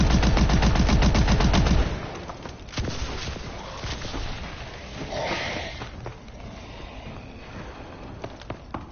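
Video game gunfire: rapid, loud machine-gun-like bursts at the start, then a busy game mix with scattered shots and effects for the remainder.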